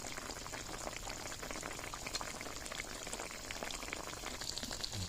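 Pork stew boils in a pot, a steady, close bubbling hiss with a dense simmering texture that continues without pause and without any voices.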